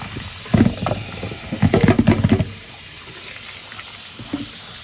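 Cooked shrimp are rinsed under running tap water in a home kitchen, a steady faucet hiss with bursts of splashing as the shrimp are handled, then the flow continues alone.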